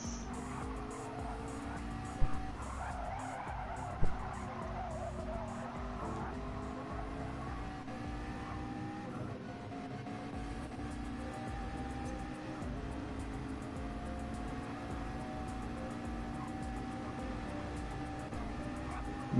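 A race car in a racing video game laps the High Speed Ring on fresh soft tyres, its engine a steady, continuous drone that rises and falls through the lap, with commentators talking over it.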